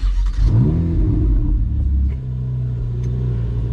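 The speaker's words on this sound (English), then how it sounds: "Very beautiful Ferrari sound" A 2017 Ferrari 488 GTB starts up close by with a quick cranking flare that rises into a loud rev, then drops back to a deep, steady idle rumble.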